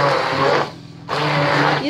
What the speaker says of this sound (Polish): Więc teraz wszystko robimy blenderem.